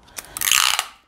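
Sticky tape is pulled off a roll in one quick, loud, close rip lasting under a second, with a faint crackle just before and a fast fade after.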